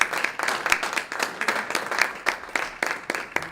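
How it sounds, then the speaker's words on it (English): Audience applause at a community event on politically engaged youth, a moderate burst of clapping with distinct individual claps close by, continuing steadily. "Your applause"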